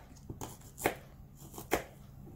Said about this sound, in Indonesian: selanjutnya kita mau iris-iris bumbu dapur ya ibu-ibu